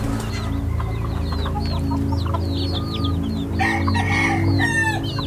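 Several game roosters crow loudly, one after another, at a breeding and training facility, over a steady mechanical hum, with clucking and other bird calls mixed in.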